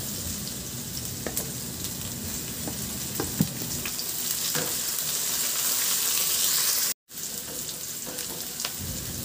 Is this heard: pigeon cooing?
no